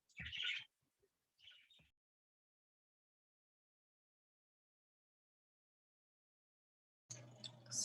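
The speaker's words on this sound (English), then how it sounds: "Sorry about my birds; they do not have a blanket on them right now." Pet birds kept indoors without a cover give a few short, bright chirps at the start, then fall quiet, with a louder burst of calls and rustle returning near the end.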